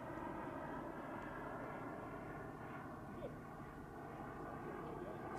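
Twin-jet RC model aircraft, a Krill Ares L, flying on its maiden flight, a steady, distant turbine roar that holds evenly throughout, fairly faint and without talking.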